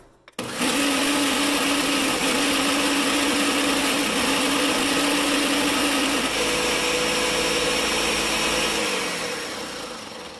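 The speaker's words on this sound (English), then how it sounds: "So I'm going to start the blender for just a second." Kitchen blender grinding oats into a fine powder, starting abruptly and running loud and steady for about ten seconds, its whine shifting slightly in pitch partway through, then fading as it winds down.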